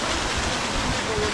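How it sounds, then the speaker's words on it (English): Steady broadband rush of falling water at a waterfall, loud and continuous for a moment, with no voices over it. "I'm at the waterfall, man."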